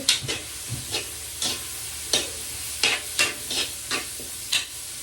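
Fennel seeds and onion sizzle steadily in oil in a pan while a spoon stirs, with repeated sharp scrapes and clatters at an uneven pace, close by.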